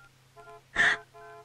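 Telephone keypad dialing tones sound in a short sequence: a soft tone, a louder burst, then another steady tone, against a low background hum.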